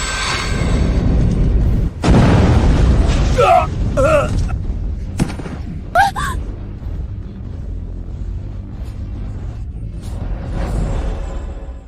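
A pill-refining cauldron blows apart in one sudden, heavy boom with a rushing burst, followed by a lingering rumble while voices talk over it.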